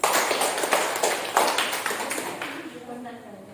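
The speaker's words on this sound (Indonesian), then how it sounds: "Tepuk tangan buat Cali." Classmates clap for a student named Cali in a classroom, a dense burst of hand applause that starts at once and slowly thins out over a few seconds, with voices mixed in underneath.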